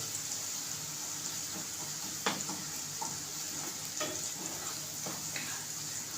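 Onion fries in a pan for an aloo palak sabzi, a continuous close sizzle with a few sharp clicks and scraping knocks scattered through it, and no voices.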